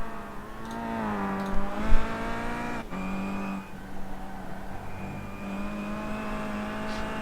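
A BTCC race car engine in iRacing at Okayama whines steadily at high revs, with brief dips and upshifts as it lapses through corners, loud and close throughout.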